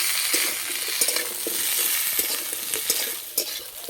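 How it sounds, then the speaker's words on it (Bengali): Long-cut vegetables and raw banana fry in a pan for a Bengali neem-leaf shukto, with a constant oily sizzle and repeated scraping stirs of a utensil against the pan. "সব সবজিগুলো ভালো করে ভেজে নিয়েছি।"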